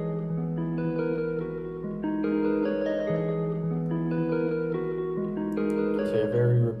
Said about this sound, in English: I laid some chords down which sounds like this.